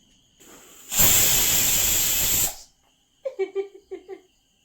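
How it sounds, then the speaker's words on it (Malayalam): A pressure cooker whistle lets out a loud, steady rush of hissing steam with a thin whistle for a couple of seconds, then stops abruptly; brief talking follows. "ഇത് കുക്കറിന് ആദ്യം പിസിൽ വരട്ടെ"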